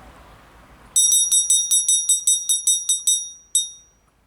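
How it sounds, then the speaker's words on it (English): Old bell rung gently in a school assembly, a bright run of about a dozen quick, clear strikes followed by a pause and one final ring that fades out, after a quiet room. "I'm going to gently ring the bell."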